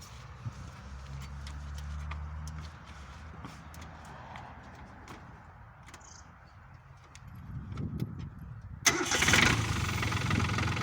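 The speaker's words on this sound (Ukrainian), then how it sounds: "Зараз ми заведемо і покатаємося на ньому." A small Yanmar F220 tractor diesel engine cranks and catches near the end, rising into a loud rough idle after a stretch of quiet rustling and clicks.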